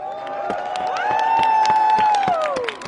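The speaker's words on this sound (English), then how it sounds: "Please give her a round of applause." A crowd at an outdoor protest in Washington, DC applauds with a dense patter of clapping and cheering, a rising whistle-like tone riding over the claps before it tapers off.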